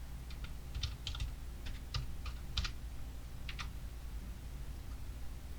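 Someone types text on a computer keyboard: several short bursts of crisp key clicks in an irregular rhythm, close and clear over a faint steady hum.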